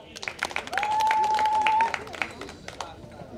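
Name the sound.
applause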